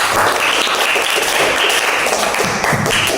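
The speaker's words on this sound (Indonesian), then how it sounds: "Mari kita beri tepuk tangan." Classroom students applaud after a group presentation, giving a loud, close burst of rapid clapping that stays dense and continuous throughout the short stretch.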